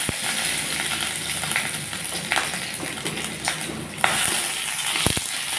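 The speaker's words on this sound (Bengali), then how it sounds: "এখন আমি রসুন কাঁচা লঙ্কা সব ভেজে নিচ্ছি" Garlic fries in mustard oil in a wok, a steady close sizzling hiss broken by occasional scraping stirs and a few sharp clinks near the end.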